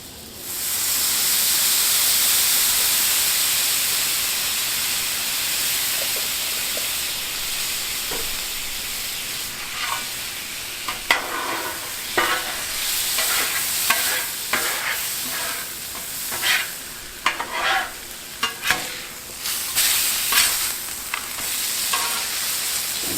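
Steak sizzles with butter and garlic on a Blackstone griddle, a loud steady hiss at first, then joined by repeated sharp scrapes and clicks of a spatula on the flat-top as the sizzle continues.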